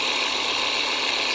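Theragun G3 massage gun running at its first speed setting, a steady dense motor buzz with a high whine, close and constant without a break.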